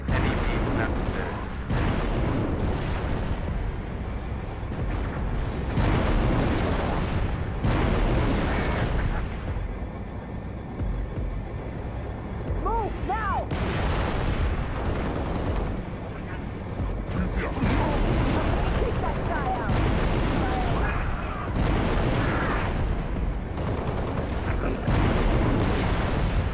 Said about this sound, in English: scans show another Covenant AA gun ahead of your location